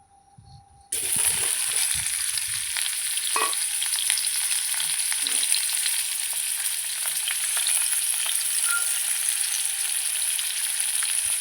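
Potatoes drop into hot oil in a kadai and fry with a sudden, loud, sustained sizzle that continues evenly, with a few faint stirring knocks.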